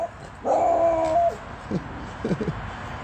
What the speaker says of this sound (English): it's a small dog